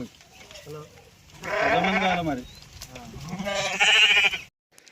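Sheep bleating loudly up close, two long wavering calls with a shaky vibrato, separated by a short pause, with quieter rustling between.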